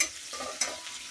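Small, bitter local bitter gourd pieces fry with potatoes in a pan, giving a close, continuous sizzle broken by the scrape of stirring, with one sharper clatter midway and no voices.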